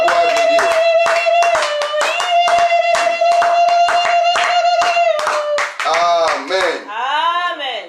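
A church congregation at a Sunday worship service claps loudly and steadily in rhythm, with sustained singing or shouting voices carrying over the applause throughout.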